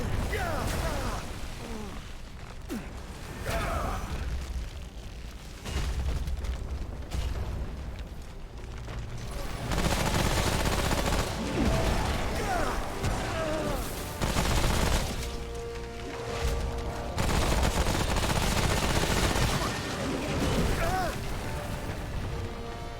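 Remnant gameplay combat with repeated gunfire and heavy booming blasts rolls on continuously and loudly. Dense mechanical noise and explosions fill the scene, and they swell in intensity during the second half.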